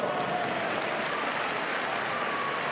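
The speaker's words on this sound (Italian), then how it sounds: "non avete scuse per fare quest'ultimo applauso, facciamolo!" Steady, dense applause from a sizable audience, continuous and even throughout with no voices standing out.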